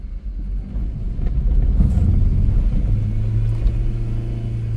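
A car driven by a beginner rumbles up close as the driver accelerates in first gear before shifting to second, the engine note climbing into a steady, rising drone.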